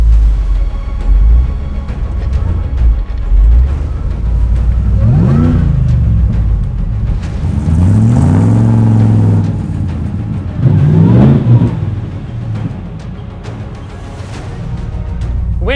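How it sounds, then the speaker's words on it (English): A Nissan Pathfinder 4x4 idles and then revs in short rising bursts as it motors slowly through a muddy hole, the engine loud and close with no talk. "This one looked pretty dry, so I crawled in slowly and thought I'd just kind of motor through."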